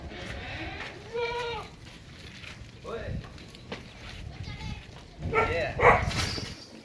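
Goats bleat several times, wavering cries near and far, while people talk over them at a busy outdoor Eid goat market in Rawalpindi.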